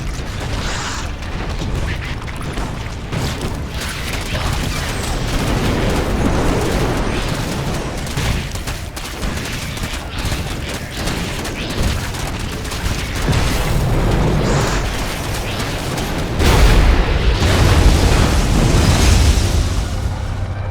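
A StarCraft II Eradicator powering up and then blowing apart, a loud rumbling run of mechanical booms and blasts that ends in a heavier low explosion near the close.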